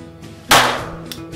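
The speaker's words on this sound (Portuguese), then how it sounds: "Segundo disparo." A single sharp gunshot from a sport shooting pistol cracks out at a firing range. It is loud and close, with a brief decaying tail and faint room noise around it.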